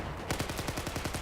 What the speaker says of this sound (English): there's actually a guy using the airburst grenade launcher below me